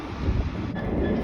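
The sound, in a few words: pair of Class 387 electric trains passing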